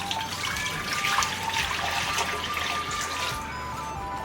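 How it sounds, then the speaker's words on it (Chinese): Clear water pours into a wok while cooking crucian carp, a steady splashing trickle that runs for about three seconds before easing off. No voices are heard. "锅中加了4面清水"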